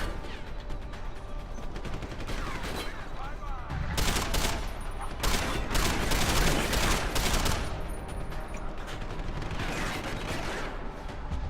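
Rapid bursts of gunfire from armed enemies in Deus Ex: Human Revolution, volleys of shots overlapping in dense clusters, loudest in the middle stretch, with mechanical clatter around them.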